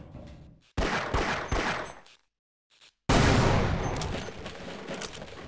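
Loud, dense bursts of explosions and rapid blasts in the game Half-Life, a brief drop to near silence, then a long sustained roaring blast fading slowly.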